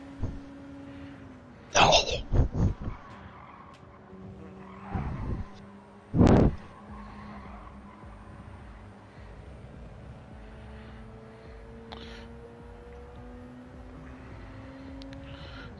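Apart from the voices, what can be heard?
car engine sounding like a straight-piped 1984 Datsun pickup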